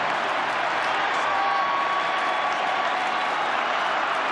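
Stadium crowd at an NRL rugby league match in Melbourne rises in sustained applause, a dense, steady roar of clapping and cheering from a large crowd, heard at a distance with no break.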